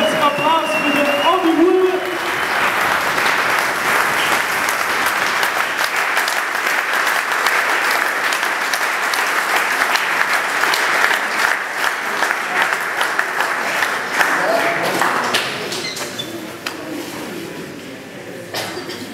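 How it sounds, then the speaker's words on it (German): A farewell event audience bursts into sustained, dense applause that carries on steadily for nearly twenty seconds before tapering off near the end, with a few voices audible at the start. "Und jetzt Applaus für den Adi Huber!"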